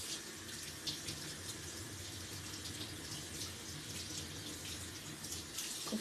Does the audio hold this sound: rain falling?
no